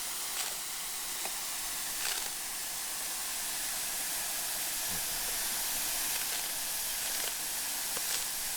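A kazan cooking pot of Azerbaijani piti soup with meat and chickpeas lets out its last steam as a faint, steady broadband hiss with occasional soft ticks and clicks.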